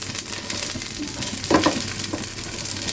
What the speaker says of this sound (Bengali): আমার কিশমিশগুলো দিতে হবে, কারণ কিশমিশটা একটু ভেজে নিলে একটু ফুলে।